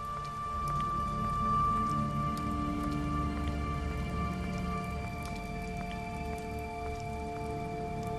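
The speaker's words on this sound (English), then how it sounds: "It's raining too." Steady rain falls in The Wolf Among Us, a continuous even hiss of drops on surfaces with faint ambient tones underneath, heard alone without talk.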